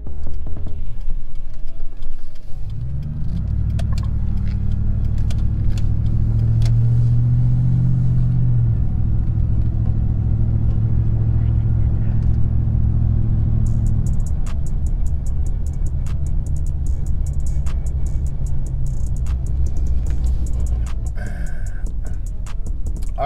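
A Ford F-150 pickup rolls on worn, bald front tires, giving a loud low rumbling road drone that swells after a few seconds and holds steady, with faint rhythmic ticking later.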